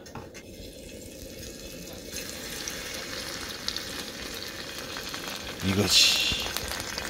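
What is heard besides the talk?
Korean pancake (jeon) batter frying in oil in pan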